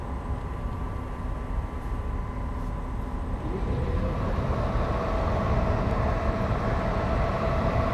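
A freight train running through the Maurienne valley in Train Simulator 2018 gives a steady, loud rumble with a low engine hum that shifts pitch partway through, continuous with no speech.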